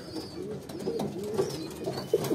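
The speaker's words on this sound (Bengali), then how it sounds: "এখানে কিছু কবুতর নিয়ে এসেছি আপনাদের মাঝে। এগুলা নর কবুতর।" Male pigeons coo in low, rolling phrases, several birds overlapping in a steady, close murmur with a few louder throaty bursts near the end.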